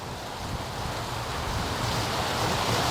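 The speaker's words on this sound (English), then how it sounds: "And I tell you, it's getting windy." Wind blowing hard over a lake, a steady broad rushing roar that swells slightly and buffets the microphone, with no voices.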